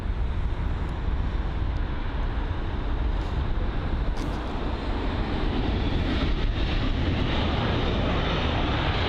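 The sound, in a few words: British Airways Airbus A320 aircraft at London Heathrow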